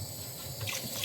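Fresh water poured over fish in a cooking pot for a seaside fish soup with tomato, giving a short close pouring and splashing rush with faint dripping.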